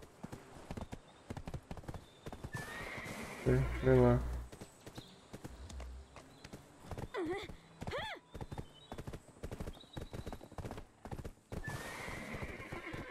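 A horse in the video game Black Desert clip-clops along, then gives a loud whinny up close, followed by more hoofbeats and a second neigh, while a player talks over game sounds.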